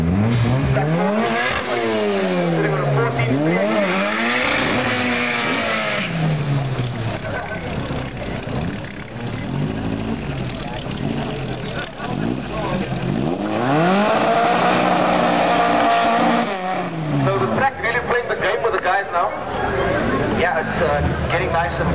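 A beach buggy racing engine revs hard and loud, rising and falling in repeated surging sweeps at close range, while a commentator talks over it throughout.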